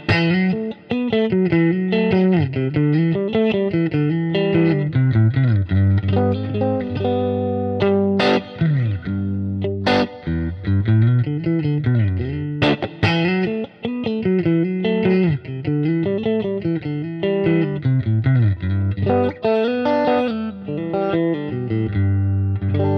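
Electric guitar played through a Fender Champ amp with digital reverb and EQ, a loud, continuous run of distorted, chorus-tinged notes and chords with shifting pitch, ringing without pause for over twenty seconds and no talking.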